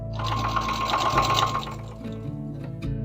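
A sewing machine stitches down the side of a fabric napkin edged with ric rac trim, its steady close mechanical whir running for most of the moment and easing off briefly near the end.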